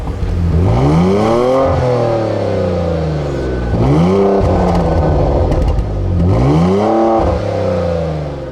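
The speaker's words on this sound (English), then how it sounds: "this is actually a really powerful little engine" A 3-liter V6 in a 2018 Porsche Macan revs hard three times in succession, each rise climbing and falling in pitch, loud and close, with no talking over it.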